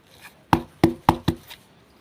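Four sharp, solid taps on soil closing the planting holes around pineapple tops set in a pot, evenly spaced and close, with quiet pauses between.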